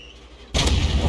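Tortoise tank gun in a video game fires a single loud, booming shot that cuts in abruptly after a quiet moment and rings on briefly.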